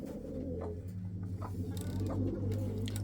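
Relaxed pigeons in a loft murmur low, rolling coos, several overlapping close by in a steady drone, with no voices.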